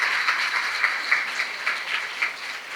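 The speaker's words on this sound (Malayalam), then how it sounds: "ഒരു വലിയ കൈയടിയോടെ നമുക്ക് സ്റ്റാർട്ട് ചെയ്താലോ?" Steady audience applause opening a Malayalam health podcast, a continuous wash of many hands clapping at moderate level throughout, no voices.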